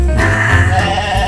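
A goat bleats loudly and close by, one wavering call lasting just over a second.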